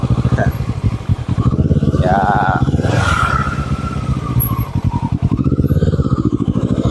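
A Kawasaki ER6N motorcycle with an original-style aftermarket exhaust idles and revs with a throbbing exhaust rumble, close and loud, while someone talks over it.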